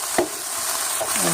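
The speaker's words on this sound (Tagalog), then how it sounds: "Saute it with your garlic, onions, and tomato" Garlic, onions and tomato sautéing in a pan for monggo soup, a close, even sizzle with a couple of quick spatula scrapes.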